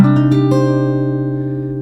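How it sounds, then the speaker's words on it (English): A single minor add 9 guitar chord is strummed, with a few quick string scrapes at the start, then rings out and slowly decays. "that minor add 9 chord. It looks and sounds like this."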